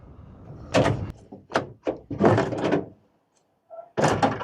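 A door on a Nodwell tracked scout car is worked open and shut on a freezing Alberta morning, producing a run of loud, close metallic bangs and thunks with brief pauses and a short lull before a final slam.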